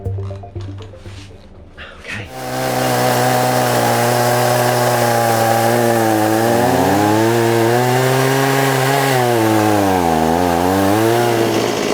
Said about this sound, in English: My electric chainsaw broke, so we're using the gas-powered one in my shop.